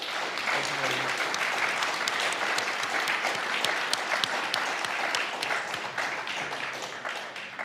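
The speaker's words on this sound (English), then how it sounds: "if we could give him a round of applause" Steady applause from a conference audience at a policy event on economic reform, a dense even wash of many hands clapping at moderate loudness, sustained throughout without talk.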